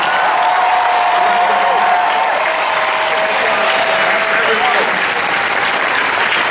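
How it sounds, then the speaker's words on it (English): A large crowd at the 2013 San Diego Comic-Con Marvel panel for Captain America: The Winter Soldier applauds loudly and continuously, a thick wash of clapping with a faint voice threading through it. "huge round of applause for Captain America"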